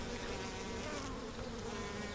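A dense, steady hum of many honey bees buzzing close by at an open hive in Oman, continuous and even, with no talking.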